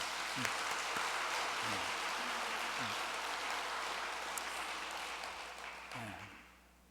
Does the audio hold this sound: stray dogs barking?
no